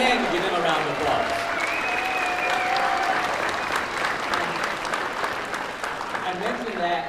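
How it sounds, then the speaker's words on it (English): Sustained crowd applause fills a graduation ceremony as families stand, a steady dense wash of clapping that fades slightly toward the end, with some voices mixed in. "Let's stand and give them a round of applause."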